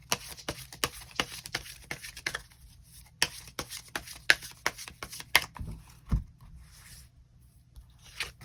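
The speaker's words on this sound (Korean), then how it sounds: "추가 카드 뽑아보도록 하겠습니다." Tarot cards riffled and drawn by hand in a quiet room, a rapid run of crisp flicking snaps and soft slides coming in bursts, fairly close and with no talking.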